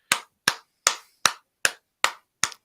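Seven sharp hand claps from one person, evenly spaced about every 0.4 seconds, loud and close with no talking.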